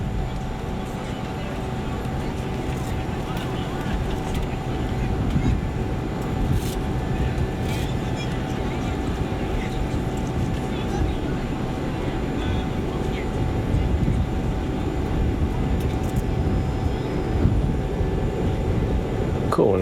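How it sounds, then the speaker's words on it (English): In Microsoft Flight Simulator 2020, the auxiliary power unit of a BAE 146 airliner spools up: a dense, steady turbine roar with a faint whine running through it, continuous and unbroken. "we can fire up the APU by pressing start. And we'll see that RPM is coming up"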